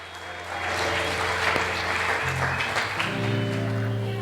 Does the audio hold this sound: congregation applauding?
yes